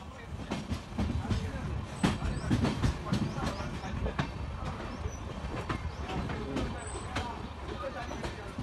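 A superfast express train rolls slowly near Tirunelveli Junction, with steady rumbling and irregular clacks and squeaks from the carriages heard from inside, while people talk faintly under the running noise.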